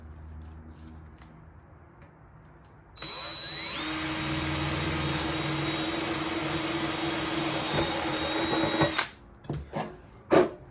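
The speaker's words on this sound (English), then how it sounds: "you want to put a pop rivet basically in the middle here" A power drill runs steadily for about six seconds while boring a hole in a metal 100x50 downpipe for a pop rivet, starting abruptly and stopping with a few brief clatters after.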